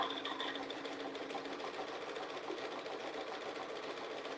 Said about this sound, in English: here I'm going to sew backwards first